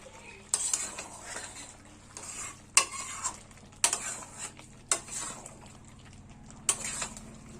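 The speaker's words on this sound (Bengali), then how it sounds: "তোলার পর ভালো করে একটু" A utensil stirs chicken kosha in a pan, with repeated sharp metallic scrapes and clinks at irregular intervals over a soft, close sizzle.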